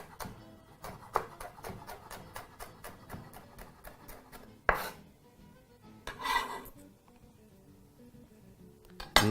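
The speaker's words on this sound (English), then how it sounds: "Turn it sideways and proceed to chop that into some very," A knife chops chili into small cubes on a board, a quick steady run of light taps that stops, followed by a few louder knocks and scrapes, close and moderately quiet with no talking.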